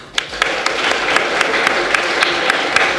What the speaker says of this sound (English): So please give a round of applause as Jennifer comes to the stage.